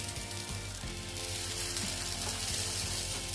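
Carrot dosa batter spread thinly over a hot pan gives off a steady, close sizzle that hisses evenly throughout, with a few faint scraping touches and no voices.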